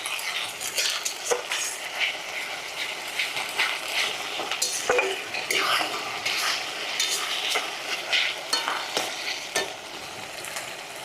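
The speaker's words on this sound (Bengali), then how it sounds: "পেঁয়াজ একটু ভাজা ভাজা করে নিছি" Half-ground onion paste fries in a pan for chicken with spinach, giving a continuous sizzle under repeated scraping and clinking of a stirring utensil, close and steady throughout with no talk.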